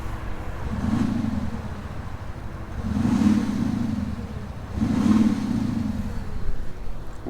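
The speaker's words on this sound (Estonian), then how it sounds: "see auto teeb sellist häält nagu tühikäigul" An Audi SQ7 V8 engine rises in three swelling revs at even intervals, a deep, steady rumble heard from nearby with no talk over it.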